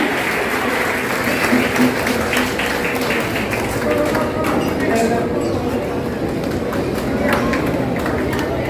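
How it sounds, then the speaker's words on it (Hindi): Loud, dense applause from an audience in a school auditorium during a Teachers' Day award ceremony, sustained rapid clapping throughout with no pauses. "जोरदार तालियां"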